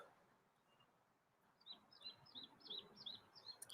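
A small bird chirps outdoors, a quick series of faint, high, repeated tweets coming in short bursts over a quiet background.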